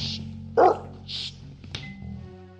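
A dog gives a few short barks and yips close by in a quiet room, with a low steady hum underneath and pauses between the sounds.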